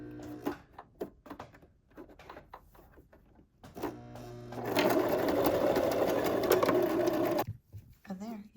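A sewing machine stitches around the edge of a small quilted ghost banner. There is speech and scattered handling noise first, then a steady, close mechanical whir of the machine running for about three seconds before it stops.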